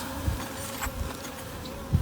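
Bees from a hived swarm make a steady, close buzzing that runs throughout, with a few louder passes as individual bees fly near. No one speaks.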